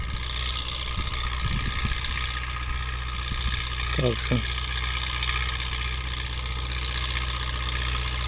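An MTZ 82.1 tractor runs steadily while disking a field for wheat sowing, a constant low engine drone under brief speech, with a short rising rev surge around the middle.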